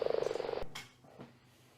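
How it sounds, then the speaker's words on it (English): A frog in the Tamar Valley gives one close, rapid, pulsing croak lasting about half a second, followed by a few faint rustles and soft knocks with no voices. "another frog just come in"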